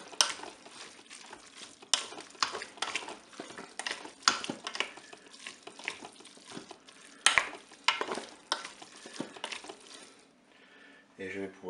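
Spaghetti with minced steaks and mustard is stirred in a Cookeo pot, giving scraping utensil strokes against the pot over a soft sizzle, with a short beep near the end.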